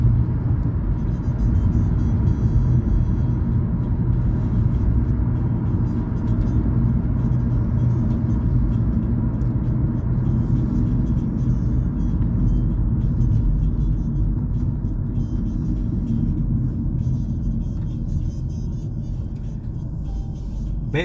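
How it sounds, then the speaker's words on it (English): A car drives a road from the inlet near Ponce Lighthouse toward Holly Hill, Florida, its steady low engine and tyre rumble continuous and loud throughout, with no talking. "We're driving from the inlet back home."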